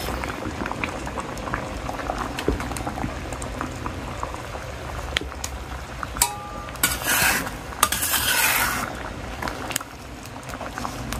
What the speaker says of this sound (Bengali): তরকারি বল খানি শুরু করে দিচ্ছে।